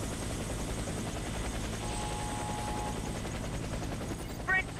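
Steady, loud whirring drone of a helicopter in the shooter video game Warface, continuous throughout, with a brief extra burst of game sound near the end.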